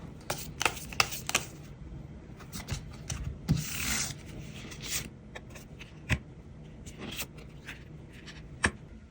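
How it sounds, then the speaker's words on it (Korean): Tarot cards handled and shuffled while drawing an advice card, giving soft, close papery rubs and scrapes punctuated by sharp little snaps and taps, with a fuller riffling swish partway through and no speech. "그럼 내년도 조언 카드 한번 열어보도록 할게요."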